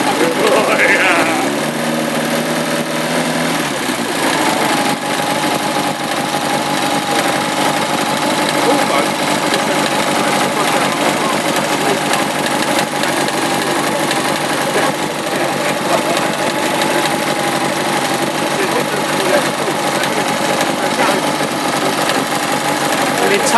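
A classic hot rod engine idles loud and close at a car show pitwalk in Wimbledon, a dense steady rumble that runs unbroken throughout, with a few brief bleating tones early on.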